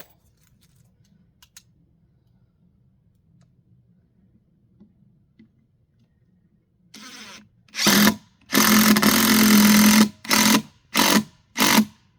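A power tool whirs in a series of short bursts, one longer run followed by quick stop-start pulses, loud and close after a quiet stretch.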